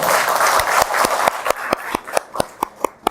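Applause from a group that thins out, leaving a few distinct, evenly spaced handclaps slowing toward the end.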